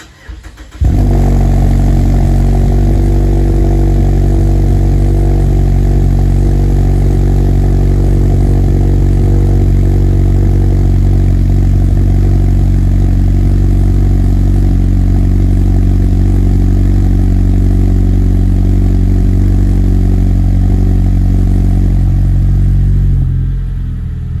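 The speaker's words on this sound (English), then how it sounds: "I'm going to record my cold start with the Corksport Axleback Exhaust" A 2015 Mazda 6 fitted with a Corksport axle-back exhaust cold-starts with a quick crank, then settles into a loud, steady, deep idle that drones evenly for over twenty seconds before cutting off.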